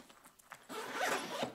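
A mesh zipper on a front pocket of a Flag Nor Fail Momentum freight bag is drawn open in one steady, close rasping pull that follows a few light handling rustles, with no talking.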